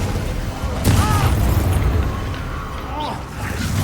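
The Confringo blasting spell goes off in Hogwarts Legacy with a dull, heavy boom and a rumbling burst, set among busy game combat sounds and brief voices.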